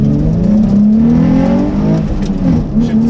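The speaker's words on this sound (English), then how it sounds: "Drop the clutch and floor it." Manual car launched hard from a standstill: the clutch drops and the engine is floored, its loud, close roar climbing steadily in pitch under full throttle with no talking.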